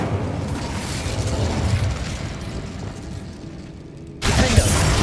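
Incendio fire spell cast in Hogwarts Legacy, a dense roaring whoosh of flame that thins out, then cuts to a sudden fresh burst of fiery noise near the end, loud and close with no talk.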